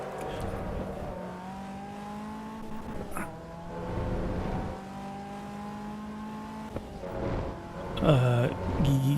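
Caterham sports car engine in the racing game Assetto Corsa EVO, a steady droning tone with shifting pitch and brief gear-change breaks, ending in a louder burst of revving.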